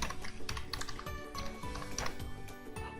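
Rapid, irregular clicking of fingers typing on a computer keyboard, keystrokes close and crisp in quick uneven bursts for the whole stretch, no talking.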